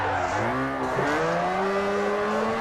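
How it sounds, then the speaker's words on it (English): Car drifting in Forza Horizon 4, its engine revving up through rising and falling pitch sweeps while the tires squeal, loud and close, with no talking. "I might be drifting this thing"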